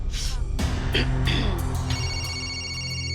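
A mobile phone left behind in a house rings with repeated electronic ringtone tones that rise and sustain in a steady pattern, close and clear, under a low background hum with no speech over it.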